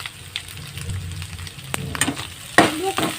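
Dried fish heating in hot oil in a home kitchen, a soft steady sizzle with stirring scrapes and a louder crackling burst near the end, close by and without speech.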